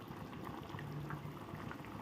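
A pot of sardine fish curry (kuzhambu) bubbles at a steady boil, a soft continuous simmer of small pops and gurgles, fairly quiet with no talking.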